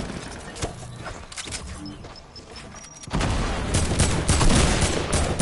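Shotgun blasts in Fortnite crack out as sharp, loud bursts within busy gameplay noise, followed by a denser stretch of rapid shots and thumps.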